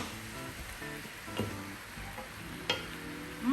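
Chopped tomatoes drop into a hot pan of goat curry and sizzle, a steady frying hiss with a few soft stirring knocks and a sharper crackle near the end.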